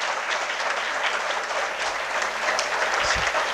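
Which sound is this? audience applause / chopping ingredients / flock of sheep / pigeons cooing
audience applause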